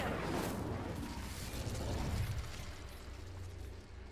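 An Incendio fire spell in Hogwarts Legacy erupts with a rumbling, whooshing blast of flame that is loudest at the start and slowly decays into a low roar.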